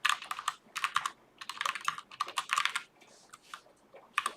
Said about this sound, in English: So let's type it out.